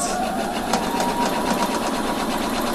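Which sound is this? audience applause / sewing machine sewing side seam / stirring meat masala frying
sewing machine sewing side seam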